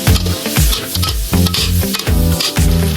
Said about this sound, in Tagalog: Gisa nyo lang ulit.